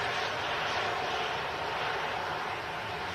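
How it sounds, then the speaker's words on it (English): A Ryanair airliner taxiing at an airport, heard as a steady, broad engine roar at moderate distance that holds even for a few seconds. "Ryanair taxiing in front of us."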